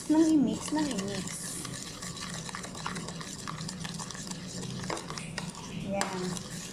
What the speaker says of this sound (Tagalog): Wala kasi kaming pang whisk. So, magtitiga na lang tayo sa kutsara.